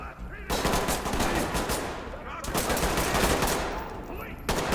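Heavy gunfire in the tactical police shooter Ready Or Not, loud rapid automatic bursts and sharp close shots filling the scene with brief gaps between volleys.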